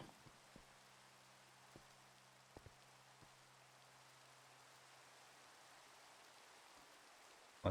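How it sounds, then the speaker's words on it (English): Steady rain falling in the video game Minecraft, played in the Enigmatica 2 Expert modpack, a quiet even hiss of patter with a faint low hum beneath and a few soft clicks scattered through. "I kind of wish it wasn't raining, to be honest."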